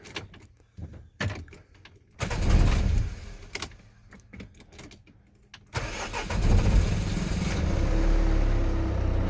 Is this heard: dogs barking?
no